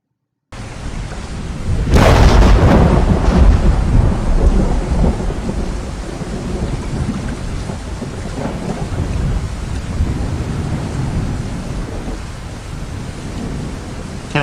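A thunderstorm with rain, opening with a sudden loud thunderclap that rolls and rumbles for several seconds and then settles into a steady wash of heavy rainfall.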